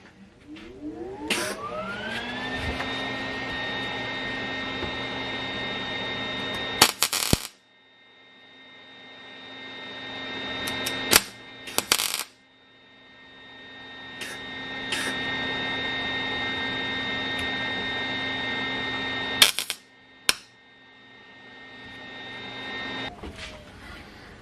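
A Lincoln MIG welder runs with shielding gas, steady buzzing arcs lasting several seconds each with a tonal hum, broken by sharp crackling bursts where each weld starts and stops, close by.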